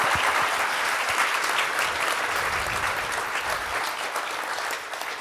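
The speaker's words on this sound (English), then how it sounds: "Big applause to the panelists." Loud, sustained applause from an audience for the panelists after a panel discussion, dense clapping that fills the whole stretch and tapers slightly at the end.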